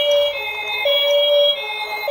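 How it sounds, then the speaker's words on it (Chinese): A toy ambulance siren sounds close and loud, a steady electronic wail with a slight dip in pitch partway through, with nothing else heard around it. "哇，救护车来喽！"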